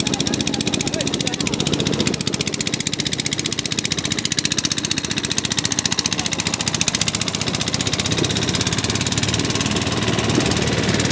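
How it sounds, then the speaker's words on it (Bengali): Small trawler boat engine running on a haor wetland, a loud, steady, rapid chugging throb heard close, with no clear talk over it. "আমরা এখন ছোট একটা ট্রলার নিয়েছি"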